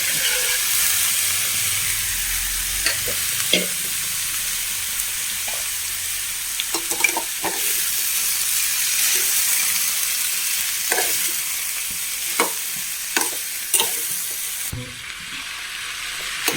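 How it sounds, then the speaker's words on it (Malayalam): Boiled papaya tossed in a pan for a village-style upperi, a steady broad sizzle with scattered sharp scrapes and clinks of the stirring spoon, close by, fading slightly near the end. "വേവിച്ച പപ്പായ അതിലേക്ക് ഇട്ട് കൊടുത്ത് ഒന്ന് ഇളക്കി കൊടുത്താൽ ഉപ്പേരി റെഡി"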